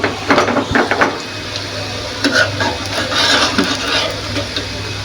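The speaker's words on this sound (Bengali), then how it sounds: "আমরা এগুলো একটু ভেজে নিব" Radish pakora frying in a pan, with sizzling and stirring scrapes against the pan, fairly loud and close, continuous over a low background hum.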